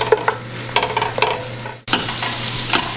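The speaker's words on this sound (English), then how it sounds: "andouille sausage is cooking. We've got the roux constantly stirring here" Andouille sausage sizzles in a pan while a roux is stirred constantly for a Louisiana seafood gumbo, the spoon scraping in irregular strokes over a steady fry; a brief cut interrupts the sound before the sizzling and stirring resume.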